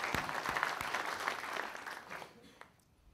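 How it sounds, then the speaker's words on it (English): Applause from a conference audience at an OpenStack Compute (Nova) project update, a dense steady patter of many hands that holds for about two seconds and then thins out and fades. "Round of applause for all the contributors"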